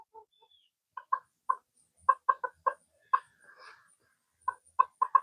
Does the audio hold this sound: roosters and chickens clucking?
yes